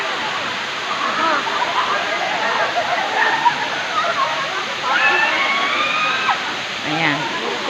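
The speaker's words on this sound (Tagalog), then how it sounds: "Ito po ang Daranac Falls." Daranac Falls in Tanay, Rizal pours as a steady broadband roar of falling water throughout, with voices talking over it near the mic.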